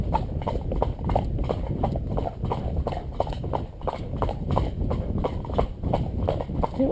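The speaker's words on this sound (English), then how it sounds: "Nice trot now." A cob horse trotting in a steady two-beat rhythm, hooves clip-clopping loudly and evenly on a firm surface throughout, close by.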